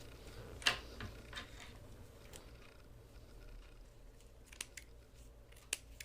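Scissors cut yarn while a small knitted baby hat is finished: several quiet, crisp snips spread over a few seconds, with light handling noise between them.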